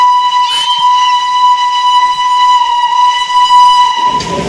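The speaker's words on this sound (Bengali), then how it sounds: "টয় ট্রেন বসে বসে দেখেই যাচ্ছি" A Darjeeling toy train's steam whistle blows loud and close as one long sustained shrill tone, ending abruptly into rumbling noise.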